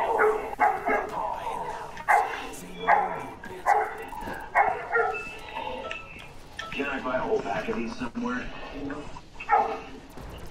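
Zombie dogs bark and snarl during a dog round in a Call of Duty Zombies-style game, with repeated yips and barks mixed under steady conversation between players.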